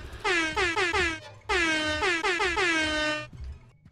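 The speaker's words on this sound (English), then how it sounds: "An air horn?" Air horn in Kill It With Fire, two loud, blaring bursts of rapid stuttering honks, each lasting over a second, sounding close and alone.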